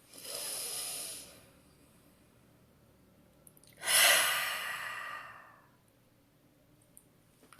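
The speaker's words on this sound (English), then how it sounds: "Take a deep breath in." Two slow, deep breaths, each a long airy exhale alone in a quiet room, the second louder and fuller, with silence between them.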